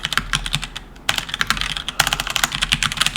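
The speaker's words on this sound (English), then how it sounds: "Sorry, I'm bad on the keyboard right now." Rapid typing on a computer keyboard, close and clear, with bursts of quick key clicks separated by short pauses.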